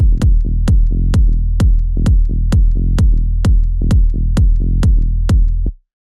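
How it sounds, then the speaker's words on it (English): A deep tech house kick drum thumps in a steady four-on-the-floor pulse with bass, each hit carrying a booming bass tone, loud and alone before stopping abruptly. "Kick and bass together grouped sound like this."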